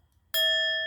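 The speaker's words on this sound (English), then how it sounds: "I must need to hit the bell" A single bright bell ding strikes suddenly after near silence and rings on as a clear sustained tone with steady overtones.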